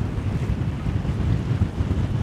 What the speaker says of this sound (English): It is ridiculous how windy it is at the moment